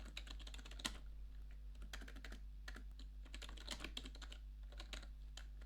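Typing on a computer keyboard, quiet and close, with irregular bursts of key clicks and a few sharper taps over a steady low hum.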